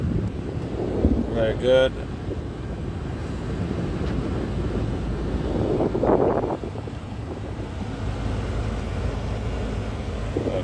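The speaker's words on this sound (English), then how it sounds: "Let's put the fan up. Okay, so the air is blowing." Air conditioning fan in a 2004 Kia Sorento 4WD diesel blows on a high setting, giving a steady, broad whooshing rush inside the cabin, with a brief voice speaking over it.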